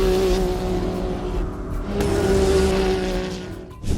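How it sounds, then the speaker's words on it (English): Custom-built 2021 Can-Am Maverick X3 Turbo RR off-road vehicle with a big custom turbo, driving in the desert; a loud, sustained engine drone with a steady tone and rising intensity, close to the listener. "This custom-built 2021 Can-Am Maverick X"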